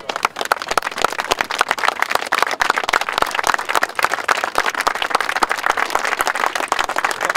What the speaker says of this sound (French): une minute d'applaudissements si vous voulez bien